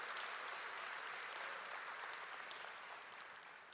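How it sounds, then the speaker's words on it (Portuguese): Church congregation applauding a sermon's call to praise, a broad steady wash of clapping that holds level throughout and tapers slightly near the end, with no voices over it. "Quem pode dar um aplauso a esse Deus maravilhoso"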